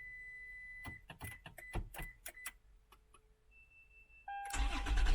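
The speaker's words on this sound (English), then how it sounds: "We got remote start." A 2010-2019 fifth-generation Toyota 4Runner started by remote start: a series of faint clicks and beeps, then the engine cranks and catches, ending in a loud rising idle roar.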